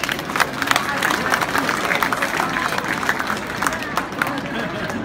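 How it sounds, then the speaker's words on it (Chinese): Audience applause fills a Shandong hometown association's 2017 annual meeting during a president handover ceremony, a steady, dense wash of clapping with crowd murmur throughout. "大家鼓掌欢迎。"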